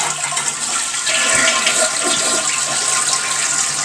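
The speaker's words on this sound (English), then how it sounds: "and now we can flush" A toilet flushed with water poured in by hand during an off-grid setup: a loud, steady rushing gush of water that continues throughout, close by with no talking.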